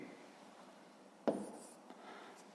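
Pen writing digits on paper while working a school arithmetic problem: faint, quiet scratching with one brief sharper stroke partway through.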